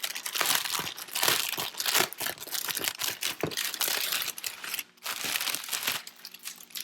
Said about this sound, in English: Sorry if it's crinkling loud.